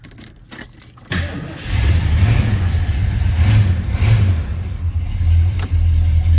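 Keys jingle at the ignition of a 1973 Ford Mustang coupe, then the engine cranks briefly and catches, settling into a loud, steady, rumbling idle close by.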